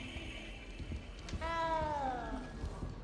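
A small cat in the video game Hogwarts Legacy lets out a single clear, drawn-out meow over quiet background ambience.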